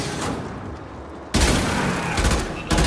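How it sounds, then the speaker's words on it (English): Burst-fire gunshots from the Burston rifle in the Warframe video game: a quieter volley of shots is followed by loud, dense bursts of rapid fire that carry on to the end, with no talking. "the new gun I'm using that's firing in bursts is the Burst On"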